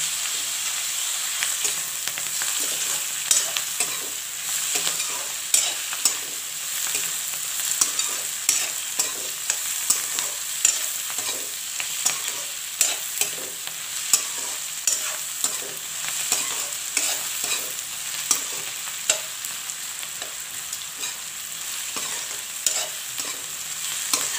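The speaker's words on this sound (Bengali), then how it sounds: "ওটা পাঁচ মিনিটের মতন ফ্রাই করতে হবে" Food fries in a pan with a steady, bright sizzle while being stirred throughout, with frequent close scrapes and taps of a utensil against the pan, and no talking.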